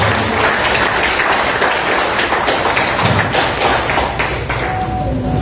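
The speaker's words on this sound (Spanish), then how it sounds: "Fuertes los aplausos para ellos." Applause from an audience at a poetry event on Amazonian verse, a dense steady wash of clapping with some thumps, continuous and fairly loud throughout.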